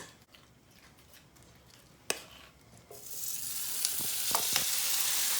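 Kimchi pancake batter in a pan of hot oil gives a faint sizzle that swells into a steady, bright frying hiss, with a few sharp clicks and pops along the way.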